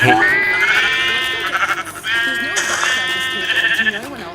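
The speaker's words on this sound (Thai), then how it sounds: "ผมก็จะฆ่าแกะด้วยดอกไม้" Sheep in the Minecraft video game bleat repeatedly in wavering, nasal calls, several overlapping cries close up and fairly loud, with brief gaps between them and no talk.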